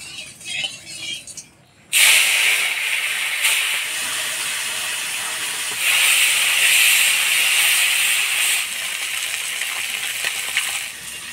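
Small fish dropped into hot oil in a wok burst into a loud, sudden hiss that settles into a steady, close, crackling sizzle, preceded by a few quiet handling knocks.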